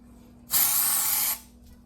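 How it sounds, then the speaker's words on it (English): A single close, loud aerosol spray of dry shampoo onto hair hisses for just under a second, starting and stopping abruptly, with quiet surroundings before and after. "I'm spraying my hair"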